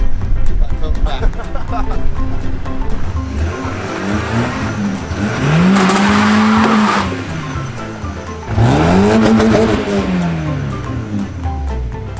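A Vauxhall Calibra's engine idling, then revved twice in rising and falling sweeps, close and loud, with people talking over it.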